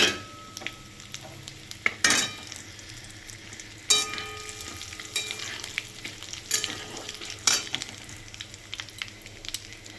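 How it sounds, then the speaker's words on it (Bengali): Bengali five-spice, cumin seeds, four dried red chillies and two bay leaves sizzle in hot oil for khichdi, a continuous close frying hiss punctuated by sharp spoon scrapes and clinks against the pan. "এবারে আমি দেখুন এতে 5 ফোড়ন, জিরে ফোড়ন, শুকনো লঙ্কা 4টে আর 2টো তেজপাতা আছে,"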